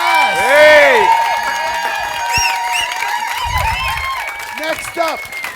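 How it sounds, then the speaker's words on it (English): An audience at a live cooking event cheers, whoops and shouts loudly, with some clapping beneath the lively, fairly close crowd voices. "can I please get a round of applause for Cam and Hasan?"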